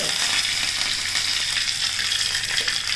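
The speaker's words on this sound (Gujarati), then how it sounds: "પછી એમાં જશે આપણી" Curry leaves and cumin seeds sizzle and crackle steadily in hot oil close by, a bright continuous frying hiss with no talking over it.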